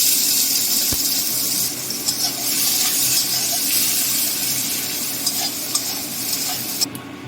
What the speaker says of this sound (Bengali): তেল গরম হয়ে গেছে দিয়ে দিচ্ছি তেজপাতা দিয়ে দিচ্ছি গোটা জিরে ফোড়নে একটু কুচি রাখা পেঁয়াজ